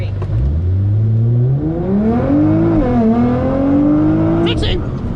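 A 2012 Nissan GT-R launches hard, its engine note climbing steadily through the revs with a brief dip at a gear change, heard loud from inside the car before a short squeak near the end.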